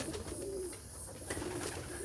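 Soft, low cooing of young pigeons, a couple of gentle warbling calls against a quiet background hiss.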